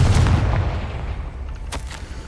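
A Confringo fire spell bursts in Hogwarts Legacy, a loud booming blast at the start that rumbles and fades over a couple of seconds, with faint sharper crackles trailing near the end.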